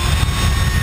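Small electric motor of a mini hyperloop scale model sled built from construction foam, a loud steady whirring buzz accelerating briefly, close up with no talk.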